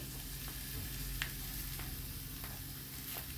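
Chopped tomatoes hitting a hot pan of ghugni, a steady close sizzle of frying with faint stirring clicks scattered through it.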